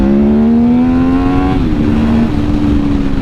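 Replica Honda RC30 motorcycle, modelled on the Rumi bike Fred Merkel raced in 1991, revs hard up close, its engine note climbing steadily and then easing back to a loud, buzzing idle.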